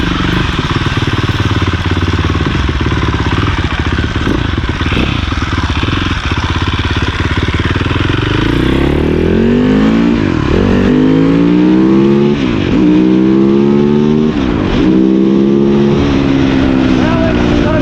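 A Cannondale dirt bike engine idles loud and close, then revs hard again and again, its pitch climbing and falling in repeated sweeps.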